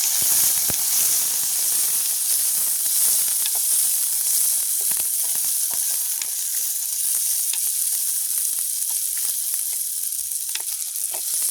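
Small onions and green chillies sauté in a pan for a village-style curry, giving a steady, bright sizzling hiss broken by frequent soft clicks and scrapes of stirring, close and continuous, with no talking.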